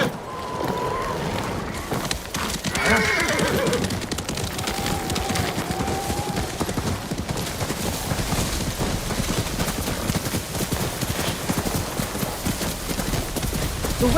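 Horse in the Ghost of Tsushima game gallops continuously at a quick, even rhythm across snowy terrain, with brief whinnies early on over a dense, steady background.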